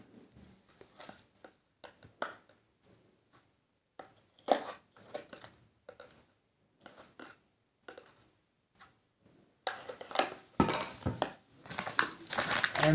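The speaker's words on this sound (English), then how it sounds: "Now we have to put 3 spoons of potassium nitrate." A spoon scoops and tips potassium nitrate powder, making repeated dry crunching, scraping taps in short bursts with pauses between, ending in louder, denser rustling. No one speaks.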